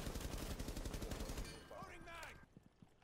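Rapid automatic gunfire in Rainbow Six Siege, a dense stream of shots through the first half that fades out into quieter game sounds, with voices faintly present.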